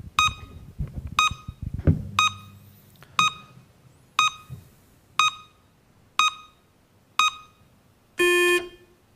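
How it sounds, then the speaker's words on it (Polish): A series of evenly spaced electronic beeps, about eight short tones ending in one longer, buzzier tone, sounds in a radio studio during a presidential debate, clear and close after a brief stretch of low rumble. "Trzeba, żeby ten sygnał wybrzmiał, żeby nikomu nie przeszkadzać w odpowiadaniu."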